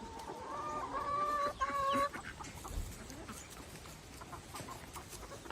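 Farm chickens cluck and squawk close by, with a few sharp vocal bursts early on, then quieter scattered clucks over a murmuring background.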